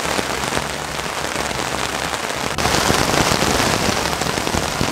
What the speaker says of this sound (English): It is super pouring rain.